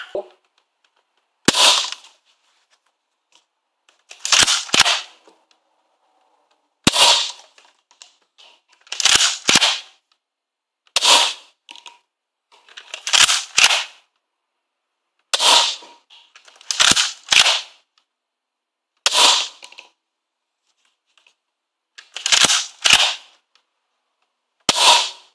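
A modded Nerf Mega Cycloneshock blaster fires mega darts through a chronograph, giving about a dozen sharp, snappy cracks spaced a second or two apart with near silence between shots.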